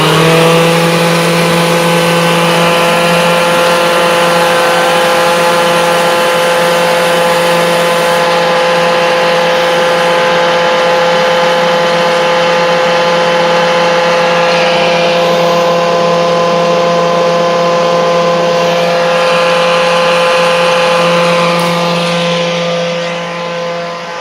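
A Kirby Dual Sanitronic 80 vacuum cleaner runs at full power for a long stretch, giving a loud, steady, high-pitched motor whine that stays close and constant throughout.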